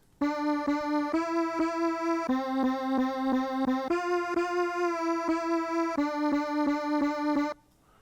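A bright synth lead with glide plays a steady, rhythmic melody of repeated short notes that shift pitch between phrases, then stops abruptly.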